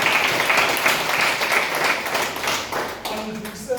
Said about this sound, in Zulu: sibashayele ihlombe elikhulu